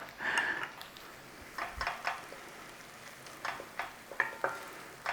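Onions softening gently in a pan give a quiet, uneven sizzle with brief crackles and soft pops scattered throughout, no voices over it.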